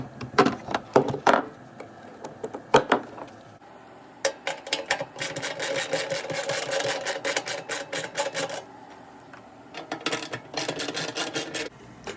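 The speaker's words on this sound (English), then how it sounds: "remove the screws that attach the belly band" Screws being backed out of the belly band on an HVAC blower motor, heard as rapid bursts of ratcheting, rasping clicks in repeated runs with short pauses between them, close and fairly loud, with no talking.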